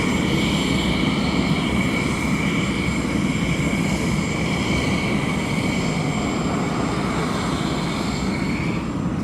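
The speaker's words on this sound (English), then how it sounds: "The next 747 is now taxiing up." A Skyway Boeing 747 taxiing at East Midlands Airport, giving a loud, continuous jet engine drone with a steady whine that holds unbroken throughout, close by and without speech.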